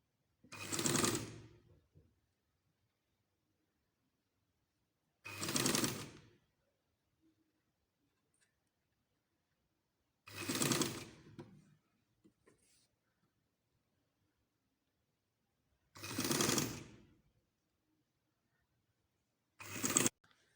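A sewing machine stitches the frill of a two-sided plated baby frock in five separate bursts, each about a second or two long and roughly five seconds apart, running loud and close with near silence between.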